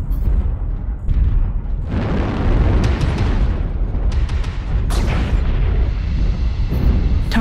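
Heavy explosion of a destroyed mech in MechWarrior Online, a loud continuous low rumble with bursts of crackling debris and sharp weapon impacts layered over a dense battle din.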